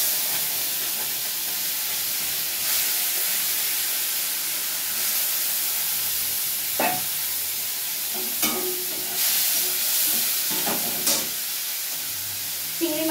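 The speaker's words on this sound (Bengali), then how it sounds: "আর সেই চিংড়ি মাছগুলো এবারে আমি একটু ভেজে নেব" Prawns frying in hot oil make a loud, continuous hissing sizzle, close by, with occasional spatula taps and scrapes toward the end.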